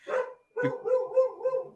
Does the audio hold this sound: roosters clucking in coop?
no